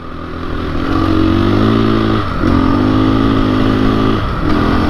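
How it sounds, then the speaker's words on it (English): A KTM motorcycle engine revs close by, rising and falling in pitch through two or three throttle blips over a rough idle. "Let's ride this bike the way it's meant to be ridden, huh?"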